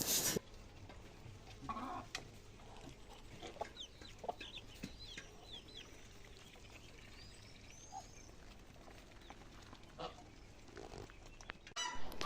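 Faint farmyard poultry noises from ducks, ducklings and chicks, soft peeps and clucks scattered over a low outdoor background, distant and quiet throughout.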